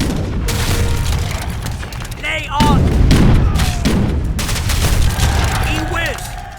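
Cannon fire in the video game Age of Empires, about fifteen cannon shooting in a loud, dense barrage of booms and rumbling blasts with crackling impacts, while a voice speaks briefly over the battle.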